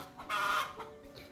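Village chickens raised by residents of a remote Indonesian settlement give a brief, soft clucking call at moderate distance outdoors, followed by quieter faint sounds and no talking.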